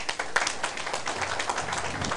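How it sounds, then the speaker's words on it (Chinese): An audience at a political lecture in Taiwan claps together, a dense, lively patter of many hands that keeps going for a couple of seconds. "拍手啊！"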